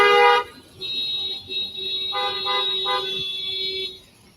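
Car horns honking in traffic, a short blast followed by long, overlapping sustained honks from several vehicles, fairly loud and close, then fading out.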